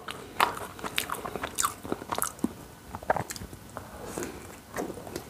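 Close, crisp bites and crunchy chewing of pizza topped with melting Hawaiian toppings and wagyu steak, a quick irregular series of crackly crunches with no talking.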